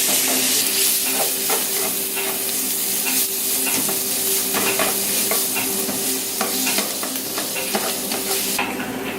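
Vegetables stir-frying in a pan with a spoonful of Indonesian salsa, steady loud sizzling with repeated scraping and stirring strokes throughout, no voices.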